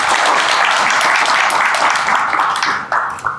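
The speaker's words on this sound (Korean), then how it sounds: "여러분 큰 박수 부탁드립니다." Audience applause at the opening of a hazardous-materials industry policy seminar, dense steady clapping from a hall full of attendees that thins out and fades near the end.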